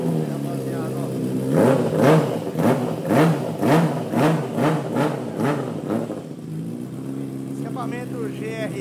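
A Kawasaki-style naked motorcycle (FAN 600R) fitted with a GRS aftermarket exhaust revs repeatedly in a rapid series of throttle blips, loud and close, with the engine settling to idle near the end while people talk over it.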